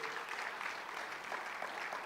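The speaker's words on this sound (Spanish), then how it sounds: "Dale palmas al Señor" Steady applause from a church congregation during a revival service, dense even clapping filling the space without a break.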